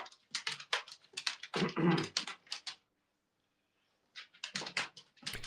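A dog makes a run of close, snuffling and growly noises in quick bursts, falls quiet for about a second, then starts up again.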